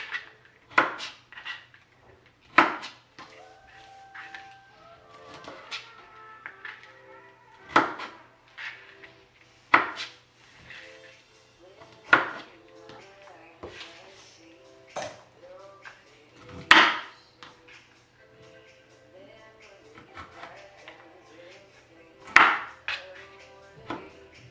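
A knife cuts broccoli on a board, making irregular sharp knocks and thuds spread over time, with clattering kitchen handling and occasional talk between cuts.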